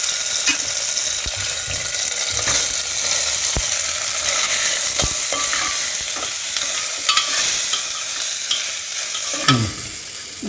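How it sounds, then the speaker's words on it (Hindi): Soya chunks fry in a couple of spoons of hot oil in a pressure cooker, a loud hiss broken by repeated scraping and clanking stirs against the metal, no talking. "अब इसमें हम बरी को डालकर भून लेंगे।"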